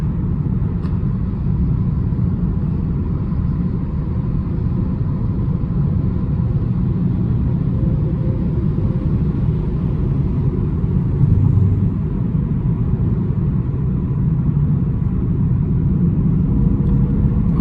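A 2012 BMW 335i manual convertible accelerates in sixth gear on a highway, a steady loud low engine and road rumble throughout.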